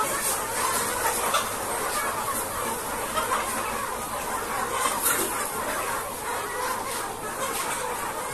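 Dense chatter of many chickens crowding a poultry farm shed, a steady mass of clucks and calls with no pause, fairly loud and close throughout.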